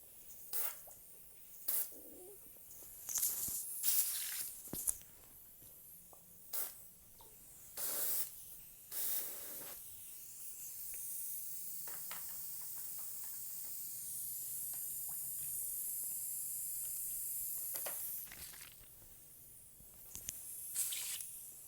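Paint sprayed onto a goddess statue comes in short, close hissing bursts, then one long steady spray, then more brief puffs.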